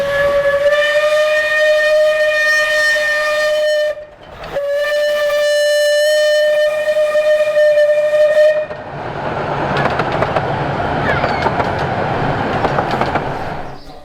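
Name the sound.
steam train passing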